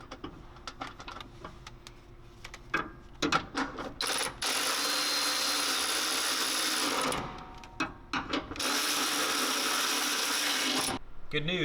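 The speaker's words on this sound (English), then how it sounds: "we'll reinstall the frame cover and re-bolt the brake lines to the frame" Ratchet work on brake line bolts at the frame of a Toyota Tacoma: quick clicking ratchet strokes and handling clatter, then two long whirring stretches of a powered ratchet or driver, close up and loud.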